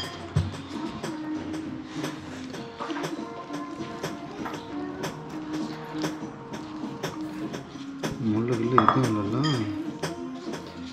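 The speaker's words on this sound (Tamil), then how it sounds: "பாத்திரம் எடுங்க." Cooking pots, pans and dishes handled in an outdoor kitchen by a port river mouth while fish cutlets are prepared, with scattered clanks and clatters throughout and a denser, louder burst of metallic rattling near the end.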